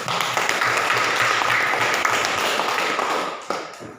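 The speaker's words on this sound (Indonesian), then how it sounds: "Ya, tepuk tangan untuk dia dulu." A classroom of students claps for a classmate after a maths answer, a steady, fairly close patter of many hands that thins out and fades near the end.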